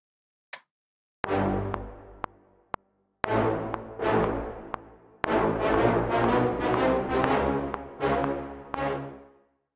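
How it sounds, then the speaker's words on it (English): Short, punchy brass stabs in octaves, played in clipped rhythmic bursts with brief gaps, loud and upfront with no voices. "for the short staccato brass bits, these are going to be octave notes"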